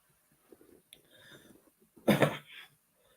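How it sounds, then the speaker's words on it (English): A single harsh cough bursts out loudly near the mic after a stretch of soft, quiet rustling and murmuring. "I need to do another cough."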